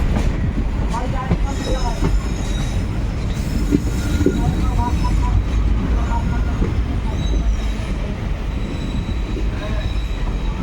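Kaviguru Express passenger train from Azimganj toward Howrah running steadily, a continuous loud rumble of wheels and carriages with faint squeals and rhythmic clatter throughout.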